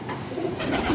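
A pigeon gives a brief, close, soft coo in a moment of low murmuring sound, with no speech.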